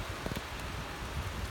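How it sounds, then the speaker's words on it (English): Heavy thunderstorm rain pours steadily in a broad, close wash of noise, with a few brief louder spatters near the start and no voices. "It's raining everything on me. Oh, wow, it's coming down now."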